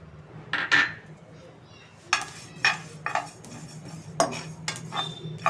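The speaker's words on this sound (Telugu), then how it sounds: "ఈ నువ్వుల్లోనే మనం గసగసాలు కూడా వేసి వేయించేసుకుందాం" Sesame seeds and poppy seeds dry-roasting in a pan on a South Indian stove, with a spatula scraping and clinking against the metal in scattered strokes over a low, steady hum.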